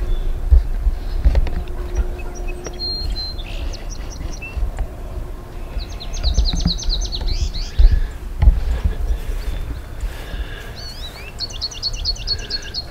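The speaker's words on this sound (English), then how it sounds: "I got a bird nest right in here." Small nesting bird chirping in short trilled bursts among pepper plants in a garden, the calls repeating every few seconds over low outdoor rumble and handling noise.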